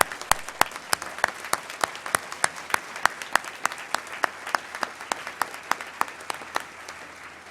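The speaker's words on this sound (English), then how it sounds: "Let's give them a round of applause just right off the bat" Graduates at a university commencement ceremony get a sparse round of applause from the audience, with distinct, sharp individual claps ringing out steadily across a large room, with no voices.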